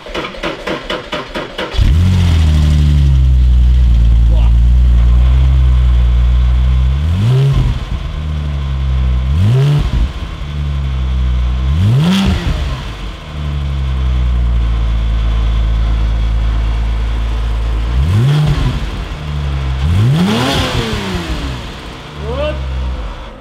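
Porsche Cayman 987 with a new exhaust starting up, then idling and blipping the throttle in several sharp revs, loud and close, with the engine's rise and fall repeating alone at steady intervals.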